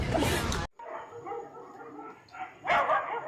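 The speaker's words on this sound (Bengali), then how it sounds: "কুকুরে দৌড়বে তো, সব কুকুর তোরে দৌড়ে ফেলছে।" Several dogs bark and yip while chasing a person, sharp excited barks and whimpers coming in bursts, with a loud shout at the start and voices talking over the commotion.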